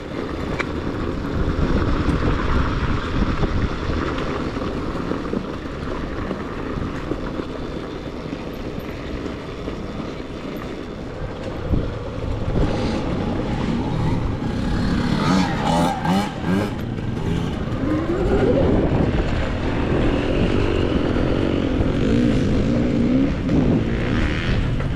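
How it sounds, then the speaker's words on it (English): Bone stock Arctic Leopard XC Pro S enduro motorcycle racing, its engine a steady loud drone that rises and falls with throttle throughout, with rough wind and terrain noise and no clear pauses. "so that was racing a bone stock Arctic Leopard XC Pro S Enduro"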